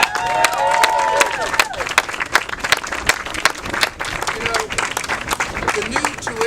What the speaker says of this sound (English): And a round of applause for free tuition for all.